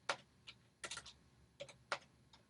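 Quiet, scattered keystrokes on a computer keyboard: a handful of light taps and short clusters spaced irregularly, close to the microphone with no voices.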